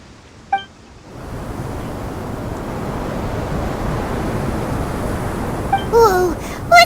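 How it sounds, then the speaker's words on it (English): Strong gusting sandstorm wind whips across a desert in Genshin Impact's Sumeru, a broad roaring rush that rises suddenly and holds steady, with a few small chimes and clinks near the start and end. "The wind's so strong! Is this a sandstorm?"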